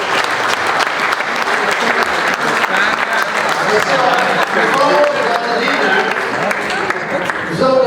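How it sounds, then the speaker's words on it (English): Conference audience at an Energy & Data Valley G20 event in Genoa giving sustained applause, loud and continuous clapping filling the room, with voices mingled in the crowd. "Give a round of applause."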